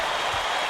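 A virtual arena crowd roars in the College Basketball 2K8 video game, a steady dense wash of cheering noise with no break, sustained throughout the short moment.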